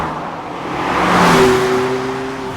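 A large vehicle rumbles past on the road, the engine roar swelling to a peak midway, then fading, with a steady drone underneath.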